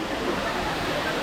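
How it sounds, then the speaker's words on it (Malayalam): Courtallam waterfall pours in a loud, dense, unbroken roar of rushing water, heard close and alone. "കുറ്റാലം വെള്ളച്ചാട്ടം"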